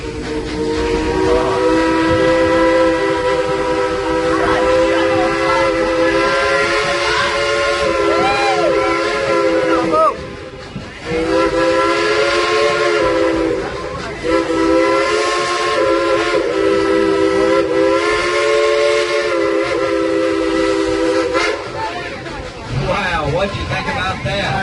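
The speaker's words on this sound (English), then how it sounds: "Would you like to hear the engineer play a tune on that bottled locomotive whistle?" Steam locomotive whistle at Dollywood in Pigeon Forge, loud and sustained with a chord-like tone, sounding in long blasts with brief breaks, as if played as a tune, over crowd noise.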